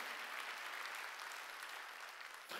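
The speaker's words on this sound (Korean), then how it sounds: "박수" A church congregation at a Sunday worship service claps together, a continuous, fairly faint wash of applause that carries evenly to the end with no voices over it.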